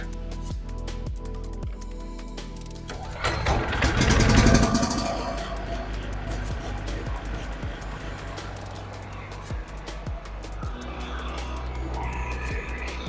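A Profinstrument BG-3800 petrol generator, used to power a welder, cranks and catches with a loud surge, then settles into a steady, droning run.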